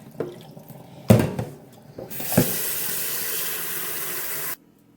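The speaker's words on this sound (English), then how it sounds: "You just want to wash it until the water runs a bit clear." Rice is rinsed in water at a kitchen sink: a few splashes and clunks, then a steady running tap for about two seconds that stops abruptly. Nearby and moderately loud, with no speech.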